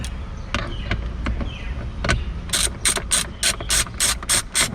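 Bolts tightened with a ratchet during a Tesla Model 3 electric tailgate install: a few scattered clicks at first, then a quick, even burst of sharp ratcheting strokes, close and loud, with no talk.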